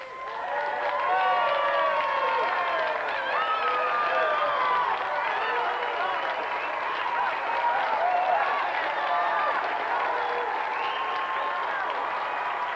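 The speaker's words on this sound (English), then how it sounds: "Give him a round of applause." A TV game-show studio audience claps steadily, with cheering voices mixed into the clapping throughout.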